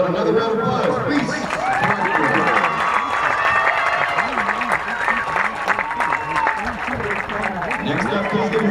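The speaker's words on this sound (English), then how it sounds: "How about another round of applause?" A crowd applauds and cheers in the stands at a high school football game, Wilmington Greyhounds versus Farrell Steelers, a continuous roar of clapping with a public-address voice and chatter running over it throughout.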